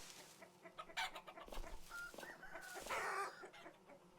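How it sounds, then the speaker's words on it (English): Chickens in the survival video game Vintage Story cluck and squawk in short, irregular bursts, fairly quiet and close, with several overlapping calls and no talk. "there's some weird chickens here"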